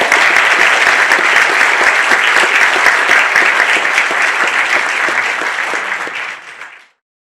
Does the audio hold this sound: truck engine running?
no